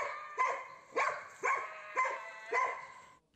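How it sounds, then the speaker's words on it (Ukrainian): A service dog fights a raccoon in the night thicket near a home in the Chernobyl exclusion zone, giving five sharp, evenly spaced barks or yelps at moderate distance. "Службова собака десь в хащах побилася з єнотом."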